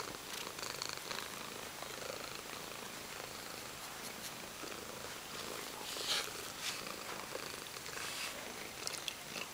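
A pet cat purrs close to the microphone, a soft, continuous rumbling purr with faint rustles and no talking.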